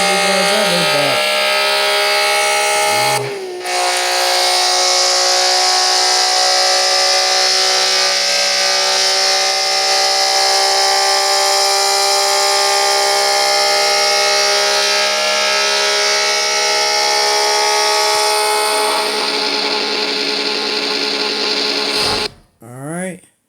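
A car engine sound played from a phone app holds a loud, steady high-revving drone, dips briefly early on, carries on evenly and then cuts off abruptly at the end.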